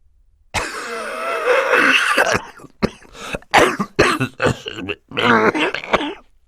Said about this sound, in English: For several seconds he coughed into a handkerchief